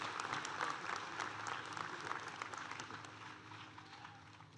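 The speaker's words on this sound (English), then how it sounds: "Please join me again in a round of applause for all of our honorary degree recipients here today." A crowd at a university commencement ceremony applauds honorary degree recipients, with dense sustained clapping that slowly fades toward the end.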